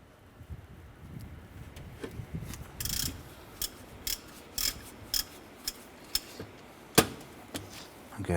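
Ratchet and socket loosening a 14mm bolt on the front engine mount of a 2008-2012 Honda Accord; a series of sharp, close clicking bursts in an irregular rhythm, with quiet gaps between strokes.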